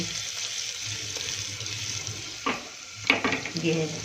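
Ginger and asafoetida crackle in a hot ghee tempering, a steady close sizzle broken by a few sharp utensil clinks and stirs, with no talking.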